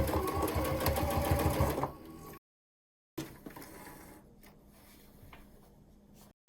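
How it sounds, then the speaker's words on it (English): A sewing machine stitches binding onto a round fabric mug rug, a steady close rapid whirring that stops and then resumes more quietly with a few soft handling sounds. "Then just continue to sew."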